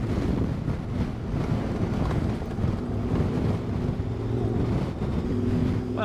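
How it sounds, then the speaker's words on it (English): Wind buffets the microphone on an adventure motorcycle ride along Thomson Gorge Road in New Zealand, a steady loud rumbling roar that lasts throughout with no pause. "Apart from the wind."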